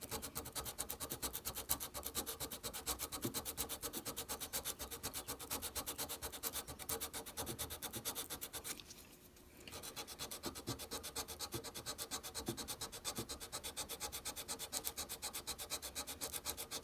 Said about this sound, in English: So I'm going to sand right on top of that solder.